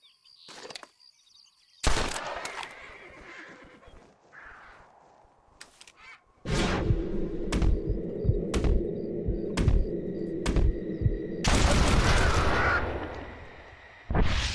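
Repeated gunshots in Red Dead Redemption as birds are shot, sharp loud bursts scattered over a steady rumbling ambience, with crow-like caws early on and a heavy blast near the end.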